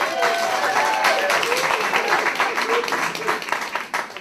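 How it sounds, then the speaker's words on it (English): Audience clapping at a stand-up comedy show in a small playhouse, a lively burst of applause with some crowd voices and cheering mixed in, tapering slightly toward the end. "You guys clap for me."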